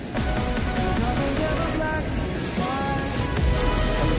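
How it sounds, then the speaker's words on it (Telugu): The small Kasada waterfall in Odisha rushes close by with a continuous splashing hiss and a faint tonal hum in the background. "ఇదేనండి కాసాడ వాటర్ ఫాల్స్. వాటర్ ఫాల్స్ ఇది పెద్దదేం కాదు, చాలా చిన్నది."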